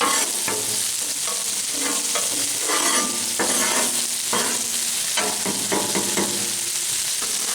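Chicken fried rice ingredients sizzling and being stirred in a hot pan, steady frying hiss broken by repeated scraping knocks of a utensil against the pan, close and fairly loud.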